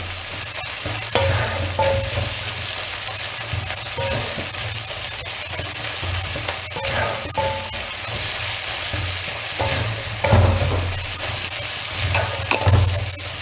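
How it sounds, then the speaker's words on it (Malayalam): Tomatoes and onions being stirred and fried in a pan with ginger for a Kerala-style chicken curry, with a steady loud sizzle throughout and occasional scraping and clinking of the spoon against the pan. No one speaks. "തക്കാളിയും സവോളയും നന്നായിട്ട് ബ്രൗൺ കളർ ആവുന്നത് വരെ ഇളക്കിക്കൊണ്ടിരിക്കണം"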